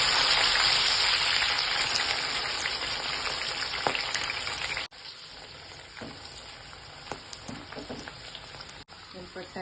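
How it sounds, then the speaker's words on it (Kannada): Okra pieces deep frying in hot oil, a loud, dense sizzle at first that drops abruptly to a quieter bubbling crackle with scattered pops. "ಈಗ ಎಣ್ಣೆ ಕಾದಿದೆ, ಬೆಂಡೆಕಾಯಿ ಫ್ರೈ ಮಾಡ್ಕೊಳ್ಳಿ."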